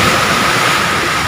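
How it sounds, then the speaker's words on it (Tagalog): Strong ocean waves break against the shore near a breakwall, a loud, continuous roaring wash of surf heard close by with no voices. "Pagka malakas ng alon dito"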